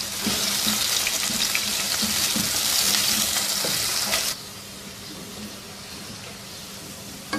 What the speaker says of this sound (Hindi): दो दरमियाने साइज़ के प्याज स्लाइसिस में काट के और इनको भी गोल्डन ब्राउन फ्राई कर लेंगे।